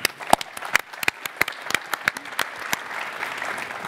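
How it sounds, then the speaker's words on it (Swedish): Audience applause at a university networking conference session, a burst of sharp individual claps that thins into scattered clapping and fades toward the end. "Det bara det är värt en applåd."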